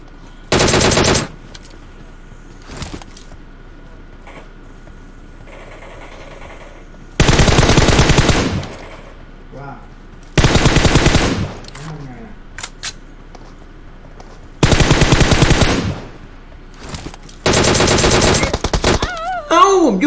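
Gunfire in PUBG Mobile on the Erangel map: loud bursts of automatic fire come in about five long spaced volleys with quieter gaps between them, and someone talks in the pauses.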